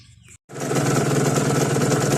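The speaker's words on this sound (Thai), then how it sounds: "เดี๋ยวไปชม เครื่องยนต์ที่ผม เดิมๆนะครับเป็นเครื่องยนต์เดิมๆทุกอย่างเดิมทุกอย่างหมดครับผม" A stock motorcycle engine with an unmodified reed valve fires up after a short pause and runs at a steady, buzzy idle close by, with no talking over it.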